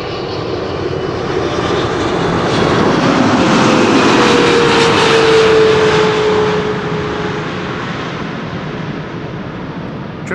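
A China Southern Cargo Boeing 777 freighter jet landing, its engine roar swelling to a loud peak mid-clip and then easing off, with a faint whine gliding across the steady rush.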